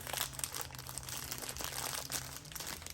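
Plastic wrapping crinkles and crackles steadily while a Kohler Lir pulldown kitchen faucet is pulled out of its packaging, with close, continuous rustling and no voices.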